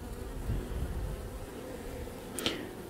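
Honeybees hum steadily around a hive and water troughs, a close, continuous buzz with one louder pass near the end, and no voices.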